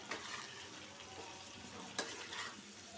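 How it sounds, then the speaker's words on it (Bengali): Chicken pieces and potatoes sizzle steadily in a frying pan, with a couple of sharp stirring scrapes cutting through the continuous crackle, close and fairly quiet, with no talking. "আমার মুরগির মাংস আর আলু দুটাই ভাজা হয়ে গেছে"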